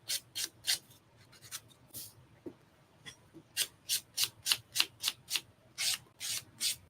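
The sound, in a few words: buffing builder gel nails with a nail buffer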